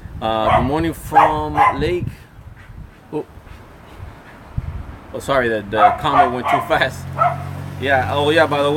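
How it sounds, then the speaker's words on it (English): Several dogs bark excitedly in short volleys at people walking on the sidewalk, close and loud, while a person talks in between. "The dogs go crazy when they see people walking on the sidewalk."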